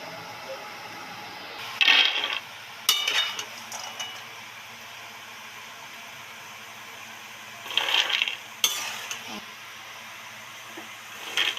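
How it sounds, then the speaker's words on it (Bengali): Fried nimki is lifted out of hot oil with a metal utensil, giving a few sharp clinks and scrapes against the pan in short bursts, separated by quiet stretches with a faint oil sizzle. "এবার পুরো তেল থেকে উঠিয়ে নিচ্ছি।"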